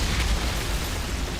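A sustained, dense rumbling blast from the fiery Eruption skill of the Fire Witch in the video game Outriders, loud and continuous for the whole moment with no distinct separate hits.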